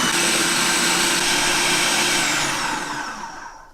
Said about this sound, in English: So we're just going to give these a little blitz.